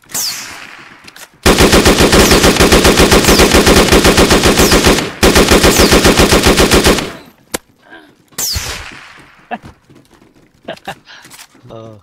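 Gunfire in the video game DayZ, loud close bursts of rapid automatic fire in two long sustained volleys, then scattered single shots and short bursts, with a player's voice talking around them.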